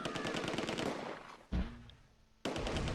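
Rapid bursts of rifle and machine-gun fire from a rifle squad in the WWII strategy game Close Combat II, dense and loud for the first second and a half, then a sharp report with a short lull before heavy firing resumes.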